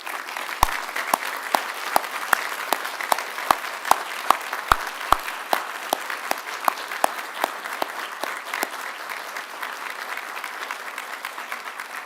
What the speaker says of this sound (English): So please stand and let's give a big round of applause